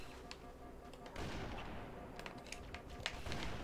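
Rapid video-game gunfire crackles through a dense, noisy mix with repeated sharp shot transients, loud and continuous across the stretch with no voice over it.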